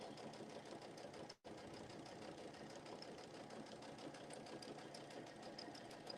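Close, continuous whirring of a sewing machine stitching a rag quilt, with a rapid steady needle rhythm. A single brief break interrupts it early on, and no one speaks.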